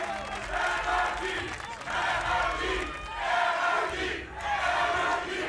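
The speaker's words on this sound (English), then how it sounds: "the NRG crowd has awoken again" An arena crowd at a Valorant esports grand final between LOUD and NRG chants in four rhythmic surging waves, each rising and falling in steady succession, loud and sustained.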